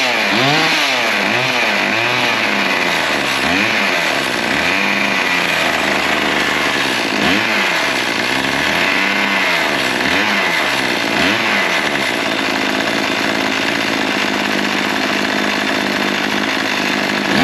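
A repaired small engine, likely a chainsaw, catches and runs with a continuous loud buzzing drone whose pitch rises and falls as the throttle revs, then settles into a steady run, close by with no talking.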